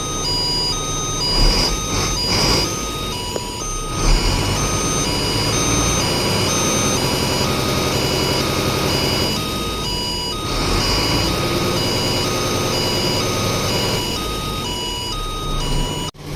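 A truck's air pressure warning alarm beeps in a steady repeating pattern over a running diesel engine during an alternator replacement, continuing for a long stretch before the engine cuts out at the end.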